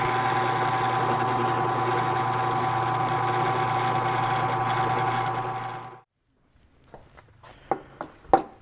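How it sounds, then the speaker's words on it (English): A drill press set to about 600 RPM turns a 4-pin roll crimper on 12-gauge shotgun shells with a steady, close mechanical hum, then stops abruptly, followed by a few light clicks and handling knocks. "My drill press is set to about 600 RPMs, so we don't need a high RPM to perform the roll"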